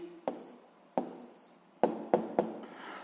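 Pen scratching on paper in short separate strokes, about five quick marks with pauses between, close and quiet in a calm room.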